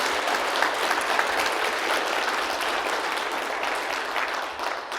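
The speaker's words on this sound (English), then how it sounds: "How about a round of applause for the administration of ULM?" Audience applause for the ULM administration at a university welcome event, a dense, steady wash of many hands clapping that fills the whole stretch and tapers slightly at the end.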